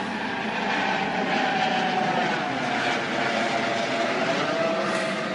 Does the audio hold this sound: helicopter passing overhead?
yes